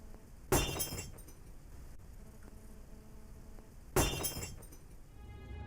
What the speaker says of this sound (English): A glass suddenly rolls off the table